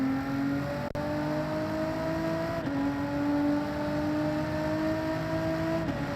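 A Group 3 race car engine from the Gran Turismo 7 racing game holds a steady, droning hum with gradual pitch shifts through gear changes. It continues for several seconds without talk.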